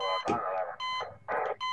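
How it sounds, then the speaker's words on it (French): Repeated electronic alarm ringing from the video game Prison Tycoon 2, loud bursts recurring in quick succession with short gaps between them. "La sonnerie."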